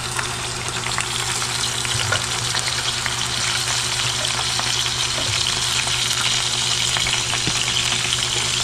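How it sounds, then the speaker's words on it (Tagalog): Tomatoes tipped into browned garlic and onion sautéing in a pan, giving a loud, continuous close-up sizzle and crackle with occasional stirring, no talking. "Yan, naging brown din ang aking bawang at sibuyas. Tapos, lalagay natin yung kamatis."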